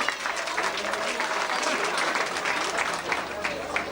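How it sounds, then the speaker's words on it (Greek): A festival crowd applauds Santa Claus's arrival at a municipal celebration, steady vigorous clapping from many hands filling the whole span, with crowd noise mixed in. "ένα χειροκρότημα στον Άγιο Βασίλειο"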